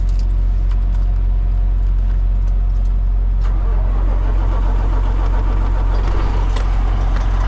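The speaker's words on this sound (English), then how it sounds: "I'll go ahead and restart the truck." A truck engine idling after a restart in extreme cold, a loud, steady low rumble throughout with faint metallic jingling and clicks on top.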